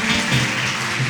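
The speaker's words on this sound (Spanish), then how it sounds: "Dale fuerte ese aplauso al Rey" A church congregation claps strongly for the King during Spanish-language praise worship, a brief burst of dense, loud applause blended with music or voices underneath.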